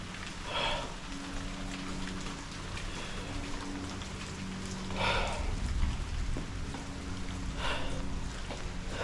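Steady rain falls outside an abandoned school, a constant hiss of drops with a few brief louder spatters and a faint low hum beneath, and no voices.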